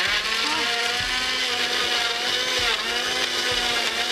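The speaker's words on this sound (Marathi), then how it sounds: "तुला हे मिक्सर चालवायला शिकायचंय का?" A kitchen mixer blends a smoothie, a steady, close, high-pitched whir that holds level the whole time with a low rumbling undertone, and no one talks over it.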